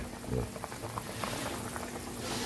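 A pot of chicken tinola bubbles at a steady boil, its soft continuous gurgling and popping close by, with a faint voice in the background.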